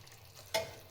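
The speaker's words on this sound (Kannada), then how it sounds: "ಈಗ ನಮ್ಮ ಚಿಕನಿಗೆ ಈ ಥರ ಬೆಂದು ನೀರು ಬಿಟ್ಟಾದ್ಮೇಲೆ" Chicken cooking in a pan for Hyderabadi-style chicken as it releases its water, a faint low simmer broken by one short, sharp burst of sizzle or scraping midway.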